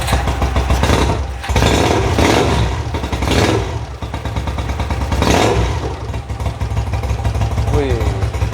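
A Honda GL 400 CX series motorcycle engine, a modified bike, revs in several strong bursts over a rough running idle, loud and close, with people talking nearby.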